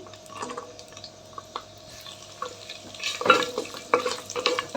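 Ingredients for palak paneer frying in ghee in a pan, heard up close as soft sizzling and scraping stirs that grow louder and busier toward the end, with no speech.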